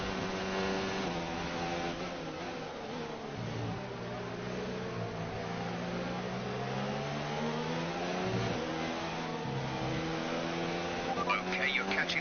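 An F1 2019 racing car engine climbs and drops through the gears as it accelerates, a steady, buzzing whine rising in pitch with faint background noise throughout.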